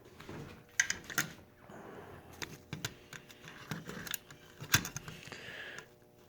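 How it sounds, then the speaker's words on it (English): Mechanical clicking from the E-unit cycling inside a Marx Commodore Vanderbilt toy train with a dead motor, faint, irregular ticks and clatters against a quiet background. "E-unit cycling, I can hear that."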